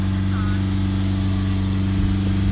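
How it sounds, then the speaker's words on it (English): Mitsubishi Outlander engine held steady at 3000 RPM during a DPF reset, a loud continuous droning hum with constant pitch and no break. "we're gonna get in, hold it up to 3000 RPM"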